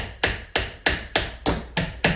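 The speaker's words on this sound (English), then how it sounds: "I literally use a hammer to help bang down" A hammer bangs seven times in a steady rhythm, each sharp, loud knock driving a knife down through a squash.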